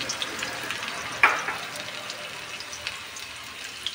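Garlic tempering in hot oil for a veg lollipop recipe gives a steady, fairly quiet sizzle and fry throughout, with one brief louder crackle near the start and no talk over it.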